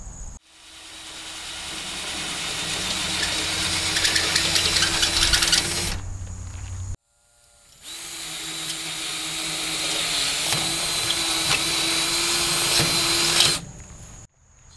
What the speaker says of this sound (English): So I'm going to have to drill a hole big enough here that this whole head will go down through.